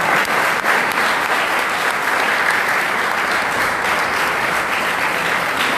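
Students at a school poetry gathering of devotional verse applaud steadily, a dense sustained clapping that stays loud and even throughout.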